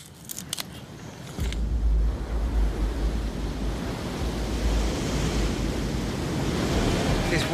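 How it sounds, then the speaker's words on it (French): Gusty wind roars against the microphone while rough waves churn and crash nearby, loud and continuous after a quieter start. "Il y a beaucoup de vent aujourd'hui et l'eau est très agitée"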